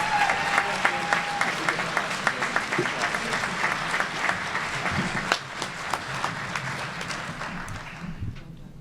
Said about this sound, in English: Please join me in giving all our graduates a well-deserved round of applause.